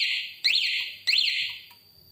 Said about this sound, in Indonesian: Jadi kalau mau mengaktifkan alarm tinggal ditekan aja dan akan bunyi.